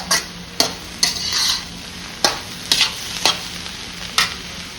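Chicken pieces are tossed and stir-fried with sauces in a hot pan for chicken fried rice, a steady close sizzle broken by about eight sharp bursts of stirring and scraping, with no voices.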